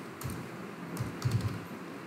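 Keyboard keys tapped while entering a date into a schedule in Microsoft PowerPoint, a loose run of light clicks with a small burst of quicker presses near the end, close and fairly quiet over faint room hiss.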